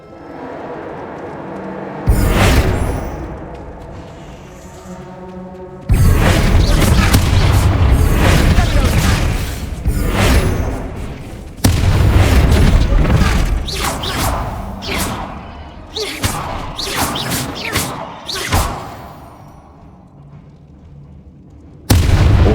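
Bombarda spell explosions in Hogwarts Legacy, set in catacombs: several loud, deep blasts with rumbling debris that fade between bursts, with a voice now and then.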